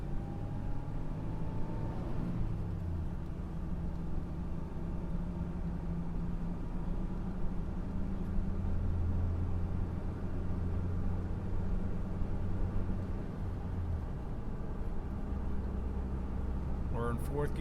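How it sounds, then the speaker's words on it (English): Cabin drone of a 1999 Toyota Tacoma 4x4 with five-speed manual driving along in fourth gear, a steady low engine and road rumble with one pitch shift early on, while someone talks. "We're in fourth gear right now."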